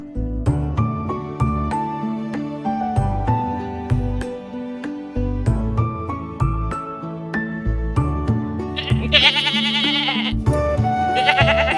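A goat bleats with a wavering, quavering cry near the end, set within a children's animal lesson and heard over a steady bed of cheerful background music.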